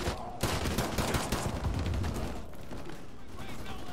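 Rapid pistol gunfire in Call of Duty: Modern Warfare 2, dense bursts of shots layered over battle noise and talk for the whole stretch, loud and close.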